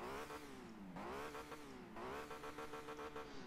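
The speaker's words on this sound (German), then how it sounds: "dass Sie den Motorensound hören" A Mercedes-Benz CLS 55 AMG engine runs and revs, its tone sweeping down and back up twice before settling into a rough, pulsing idle, moderately close with no talk.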